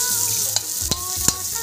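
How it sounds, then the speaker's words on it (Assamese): Potatoes fry in a hot pan with a steady, close sizzle, and three sharp spatula knocks mark the stirring. "এতিয়া ভালদৰে মই আলুখিনি ভাজি ল'ম"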